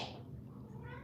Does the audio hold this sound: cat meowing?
yes